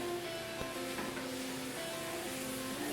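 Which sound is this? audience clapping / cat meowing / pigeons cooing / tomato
tomato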